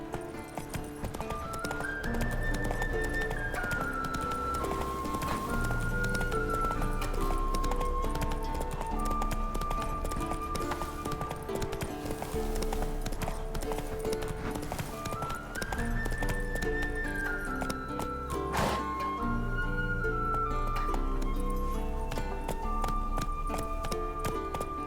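Geralt's horse Roach gallops in The Witcher 3 video game, a steady clip-clop of hooves beneath a continuous orchestral music score, with a brief whinny-like accent partway through.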